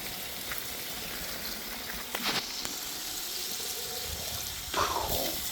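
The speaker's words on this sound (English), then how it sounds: "Way too much water going through this thing." Water rushes steadily through a Performa 268 during a flow test, a constant close hiss with a few brief splashing bursts near the end and no talk.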